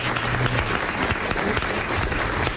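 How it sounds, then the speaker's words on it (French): Studio audience applause on a French television talk show, steady dense clapping filling the room throughout, loud and close with no talk over it. "On applaudit Mademoiselle Delmer du Havre."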